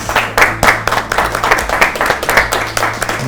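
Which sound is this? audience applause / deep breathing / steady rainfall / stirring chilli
audience applause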